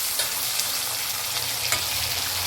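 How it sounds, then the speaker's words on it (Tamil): Onion, garlic and tomato sautéing in a pan for a South Indian vathakuzhambu, with a steady, dense sizzle and frying crackle heard up close and alone, plus faint stirring scrapes. "நல்லா வதக்கிக்கணும்."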